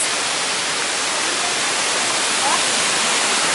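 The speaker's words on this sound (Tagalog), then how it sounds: "Oh, this is the Mangit-Ngit Falls." Mangit-Ngit Falls pours in a steady, loud, broadband roar of falling water that stays even and unbroken throughout, with no voices over it.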